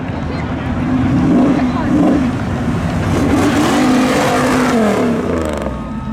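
Drag race cars accelerating off the line at a racetrack spectator drag event, a loud sustained engine roar with shifting revving pitch, heard close and under a commentator's voice.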